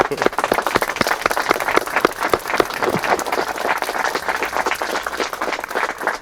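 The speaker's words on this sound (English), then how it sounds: "Round of applause, well done." Wedding guests burst into lively, dense applause with sharp individual claps throughout, sustained and close, with faint voices mingling beneath.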